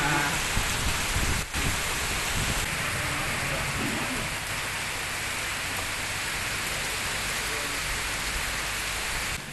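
Heavy pre-monsoon downpour in Rampur, a steady dense hiss of rain on surfaces that fills the whole stretch at an even, loud level, with one brief sharp knock early on and no voices.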